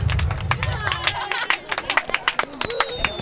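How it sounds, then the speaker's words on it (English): A high school football crowd erupts after a 1-yard touchdown run, loud cheering and clapping with busy crowd noise, whistles and rhythmic bursts throughout. "The crowd goes crazy."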